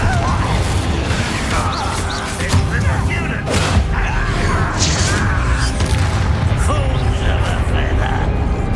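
Confringo spell blasts in the Hogwarts Legacy video game: several booming impacts and crashes amid dense, loud game sound and music, with spoken lines from the game running throughout.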